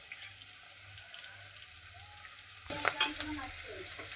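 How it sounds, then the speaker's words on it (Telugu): Sliced onion and green chili fry in a pan with turmeric, a soft sizzle that jumps louder partway through as the mix is stirred, with scraping clicks over a low background hum. "కొద్దిసేపు ఉల్లిగడ్డ పచ్చిమిర్చి గోలింది."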